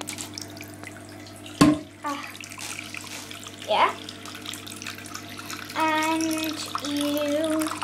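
Hot water runs steadily from a tap into a bathroom sink, with splashing changes in flow and a voice talking over it.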